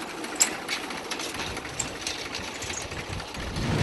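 A multilayer inter-cultivator engine runs steadily with a buzzing, rattling mechanical drone and a few sharp ticks, moderately loud and with no speech over it.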